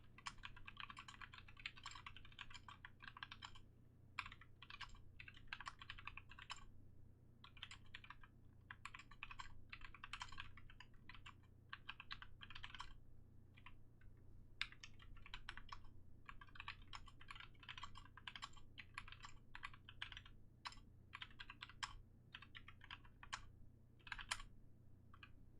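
Rapid keystrokes on a custom Playmaker Prime_E mechanical keyboard during a timed typing test, a steady stream of crisp clicks and clacks with brief pauses, close and clear over a low constant hum, with no talking.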